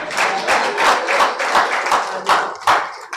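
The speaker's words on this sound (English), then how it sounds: "Ladies and gentlemen, another round of applause for him." Audience at a health report launch event claps, with distinct bursts of hand claps rising and falling in an uneven rhythm, close and fairly loud, with no talking over them.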